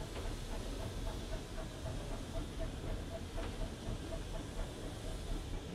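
A preserved branch-line steam locomotive hauls unfitted freight trucks at slow speed, with a steady hiss and rumble and faint rhythmic clicking of wheels on rail, heard at a low level.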